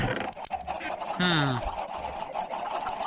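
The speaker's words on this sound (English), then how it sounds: "I hear chickens." Chickens cluck amid a busy, noisy game soundscape, with one drawn-out squawk standing out near the middle.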